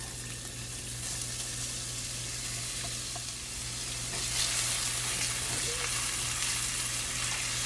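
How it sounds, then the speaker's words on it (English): Onion sautés in olive oil for a Mediterranean veggie pizza, a continuous soft sizzle under a steady low hum that grows a little louder partway through, with occasional stirring sounds and no voices. "Saute that into the oil, incorporate that into the oil."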